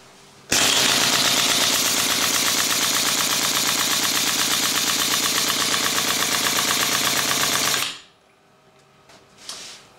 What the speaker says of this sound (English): that's basically an 8 Hz test on both cylinders with a slight phase shift between both of them